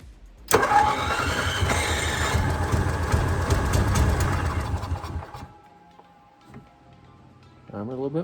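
A primed generator engine is cranked and catches briefly, a loud, rough, close running burst lasting several seconds before it dies away, followed by quiet and faint voices.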